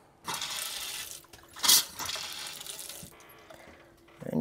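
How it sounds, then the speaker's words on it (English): Water from the shower of an abandoned RV runs in uneven bursts, hissing and splashing with a brief louder gush midway, then tapering before picking up again at the end. "And your shower's working right?"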